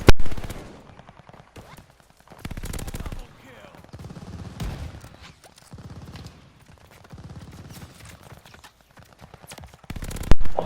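Rapid-firing weapon in the video game Call of Duty: Vanguard, bursts of fast automatic gunfire in several separate strings, loud and close, with short pauses between them.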